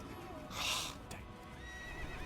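A horse in Assassin's Creed, set in Acre, lets out a single loud whinny that rises and fades within about half a second over steady game ambience.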